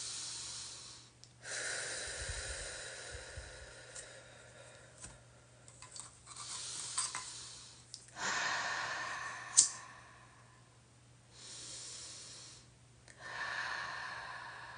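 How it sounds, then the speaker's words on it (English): Slow deep breaths during a guided breathing exercise, in through the nose and out through the mouth, three soft airy cycles close and quiet, with faint hiss and pauses between them. "Inhale through the nose, exhale through the mouth."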